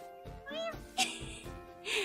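A person imitates a cat with a few drawn-out, high meows, close and fairly quiet, separated by brief pauses.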